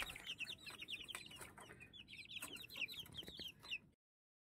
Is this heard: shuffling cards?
no